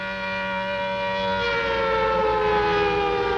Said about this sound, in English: It's the special effects siren.